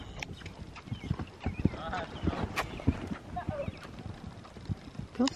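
A horse ridden outdoors, its hooves clip-clopping in an irregular walking rhythm close to the microphone, with light wind noise and people chatting over it.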